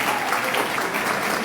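Brief, dense applause from an audience at a talk about therapy, steady clapping filling the whole moment without pause.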